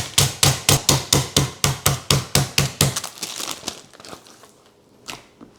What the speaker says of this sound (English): I just want to flatten it so it's about ½ an inch in thickness.